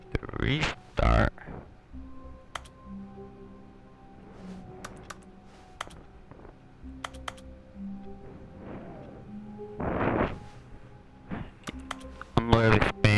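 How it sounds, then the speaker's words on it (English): Keys on a computer keyboard tapped in quick bursts while playing The Stanley Parable, close and fairly quiet, with sharp clicks scattered through the stretch and a few louder thumps and game sounds mixed in. "I'm literally typing everything."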